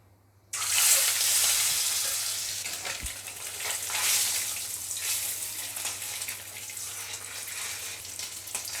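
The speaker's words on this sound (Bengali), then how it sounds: "লবণ হলুদ দিয়ে ডিম দুটোকে ভেজে নেব।" Two eggs hit hot oil seasoned with salt and turmeric, bursting into a loud, close, steady sizzle that carries on unbroken with only small swells and one faint knock, no voices.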